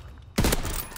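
A single sharp burst of gunfire in the Call of Duty video game, loud and close, cutting in abruptly after a quiet start and ringing out briefly.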